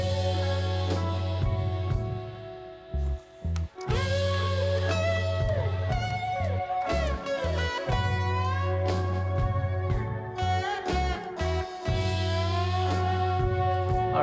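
Full mixed studio recording of a song, with steady bass and drums under layered melodic instruments and vocal lines, loud and continuous with a couple of brief dropouts near the start.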